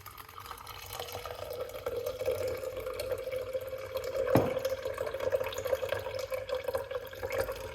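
Pasta water poured off into a sink, a steady running gush of liquid with a brief louder splash midway, close and continuous throughout.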